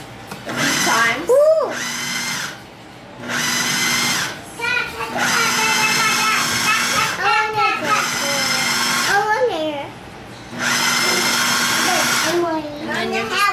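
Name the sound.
food processor pulsing sofrito vegetables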